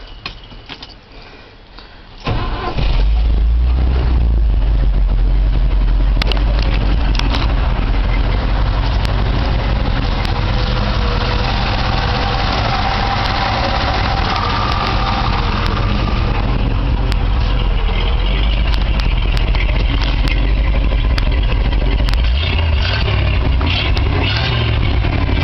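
A 1968 International Harvester 1300 one-ton dump truck engine cranks and catches after a short quiet moment, then runs with a loud, steady low rumble, idling close by for the remainder with some roughness and a slight swell near the end.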